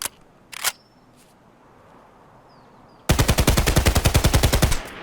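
An SA-58 OSW rifle in Escape From Tarkov fires a long full-auto burst of about twenty rapid, loud, evenly spaced shots, preceded by a few sharp mechanical clicks and a quiet pause.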